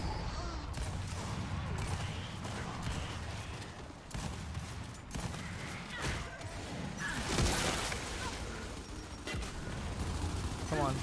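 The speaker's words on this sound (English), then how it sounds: "I'm shooting you, you should be hiding" Sniper rifle fire from the video game Gears 5 sounds in a dense, continuous mix of game gunfire, crashes and whooshes, with a player talking over the action.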